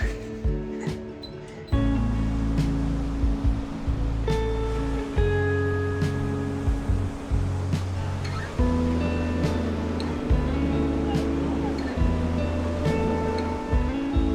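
Ocean surf washing onto the beach at Las Palmas, Gran Canaria, in the evening, a steady low roar with repeated wave surges every couple of seconds, fairly loud and close, with no talk over it.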